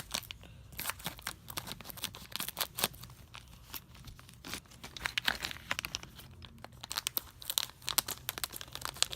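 Close, irregular crinkling and rustling of plastic bags from Lego Ninjago sets, with sharp scissor snips and tearing sounds as bags are opened one after another.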